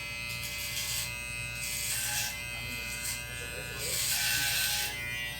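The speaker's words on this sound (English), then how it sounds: "the first one is the gold Wahl detailer, and we're gonna see how it debulks" Gold Wahl Detailer trimmer buzzing steadily as it is pushed through hair, a close, continuous electric hum with rising and falling bursts of cutting noise.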